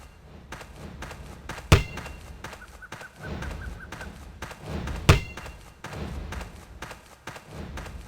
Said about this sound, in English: I really don't know what the basketball sound is coming from. It seems like just certain parts of the terrain are causing it.